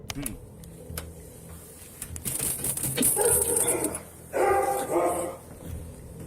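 Dogs bark in several bursts, some sharp and yippy, with whimpering between them, fairly close, over faint background noise.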